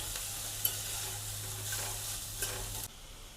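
A spoon scrapes and stirs vegetable masala Maggi in a pan at close range. A faint sizzle sits under the soft stirring for about three seconds.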